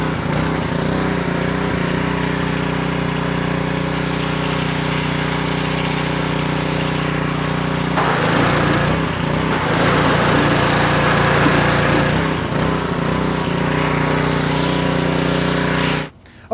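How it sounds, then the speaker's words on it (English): A loud, steady hiss of pressurized water spray rinsing a car engine over a droning motor hum, continuous throughout, growing harsher midway before cutting off abruptly. "so we finished rinsing off the whole engine"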